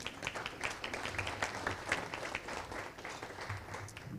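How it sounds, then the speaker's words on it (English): Steady audience applause at a club meeting, moderately distant and even, without talk over it, continuing for a few seconds. "Let's give Scott a round of applause"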